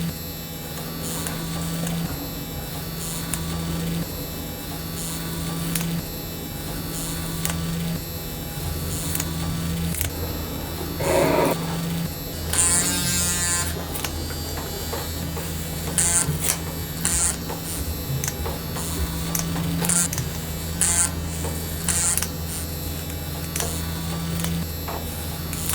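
Gillette ProGlide Power razor shaving a face: a steady high electric buzz with a low mains-like hum runs throughout, broken by scraping strokes and a brief splash-like burst midway, close-up.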